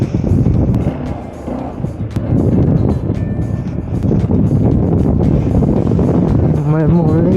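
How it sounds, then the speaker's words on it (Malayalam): Strong wind buffets the microphone during an evening motorcycle ride uphill on trails around Kattappana in Idukki, a loud, steady roaring rush with engine rumble underneath. "നല്ല കാറ്റുണ്ട്."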